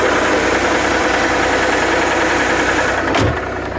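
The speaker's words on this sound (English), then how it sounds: "That's not what an engine's supposed to sound like." A faulty van engine runs roughly, a loud, close, steady rumbling drone that holds for a few seconds before a brief clunk and a slight drop in level.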